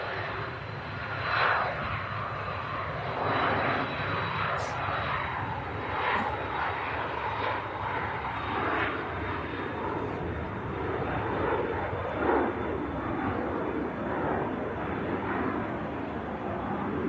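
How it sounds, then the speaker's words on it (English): Ryanair airliner arriving from Alicante on its landing approach, a steady broad jet roar that holds at moderate loudness throughout with no pauses, heard from a distance. "Ryanair next to landing from Alicante"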